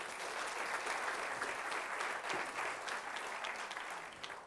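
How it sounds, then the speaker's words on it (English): A conference audience gives steady, dense applause from start to finish, a continuous wash of many hands clapping with no talking, fading slightly at the very end. "Let's give her another round of applause."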